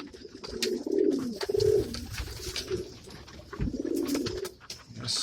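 Pigeons in a backyard coop give repeated low throaty coos in overlapping bursts, close and fairly loud, with brief rustles and occasional higher chirps between calls.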